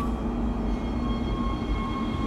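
In the video game Dead Space, a tram moves along with a steady low rumble and a faint tonal hum, a continuous loud rolling drone with no voices.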